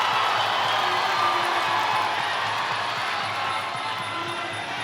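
An arena crowd at a fight event roars and cheers in a sustained, dense wall of noise, with a commentator talking faintly underneath.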